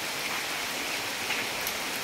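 Heavy rain from a low-pressure system pours steadily in the Mahanga area of Odisha, a dense even hiss of drops on surfaces with no voices.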